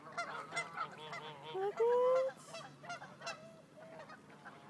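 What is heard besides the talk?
duck calling in a park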